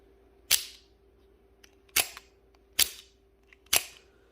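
SOG Pentagon OTF knife fires its blade out and back in four sharp metallic snaps, spaced about a second apart, each crisp and close with a short ringing tail over a quiet hum.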